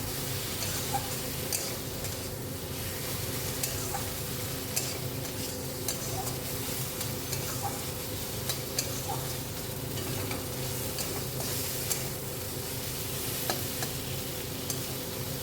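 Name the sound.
prawns sizzling and being stirred in spice paste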